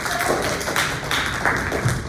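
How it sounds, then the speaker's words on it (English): Steady applause from a group in a room, dense overlapping claps at moderate loudness throughout, with a few louder bursts. "Let's give them a round of applause."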